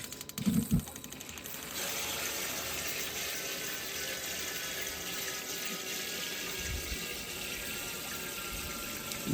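A water pump runs in a pot, spraying water with a steady hissing splash after a couple of soft knocks at the start, continuous and fairly close, with a faint thump near the end.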